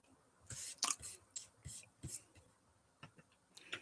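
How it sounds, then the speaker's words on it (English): Rapid, irregular keyboard typing picked up faintly over a remote call, with scattered sharp clicks in uneven bursts against a quiet background. "typing away frantically."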